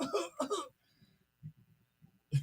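A few short, rough coughing bursts with quiet gaps between them, close to the microphone, following a brief stretch of talking.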